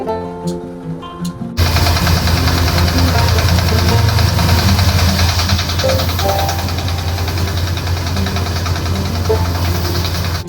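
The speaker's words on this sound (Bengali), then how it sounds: "তারপরে দানবীয় মেশিন দিয়ে সরিষা মাড়াই" Giant mustard threshing machine in a field, its engine starting up after a quiet moment and then droning loud and steady with a low rumbling throb throughout.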